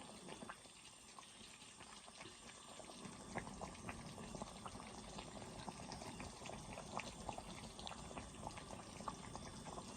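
Spiced sweet-sour mango pickle simmers and bubbles gently in a pot, a soft steady sizzling and popping held faint and continuous throughout.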